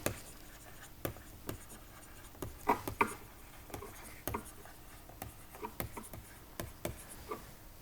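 Pen writing numbers on paper during a statistics calculation, heard as scattered faint taps and short scratchy strokes spaced through the quiet, with no talking.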